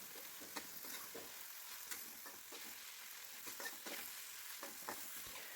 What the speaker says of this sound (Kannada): ಇದು ತೊಳೆದಿಟ್ಟಿರುವಂಥ ನುಗ್ಗೆ ಸೊಪ್ಪು ಅದನ್ನು ಸೇರಿಸ್ಕೊಂಡು ಚೆನ್ನಾಗಿ ಹುರ್ಕೋತಾ ಇದ್ದೀನಿ